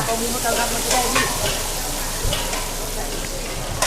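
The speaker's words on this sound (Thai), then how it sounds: "อันนี้ผัดอะไรเฮียเลหัวหน้าเลวัต ผัดกะเพราผัด กะเพราหมู" Steady loud sizzling of pork and basil stir-frying in a hot wok, with occasional scraping and clanks of stirring.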